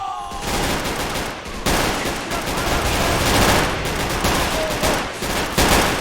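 Dense, continuous small-arms and machine-gun fire roars in a World War II battle in the strategy game Men of War: Assault Squad 2, with overlapping rapid shots and booms filling the whole stretch loudly.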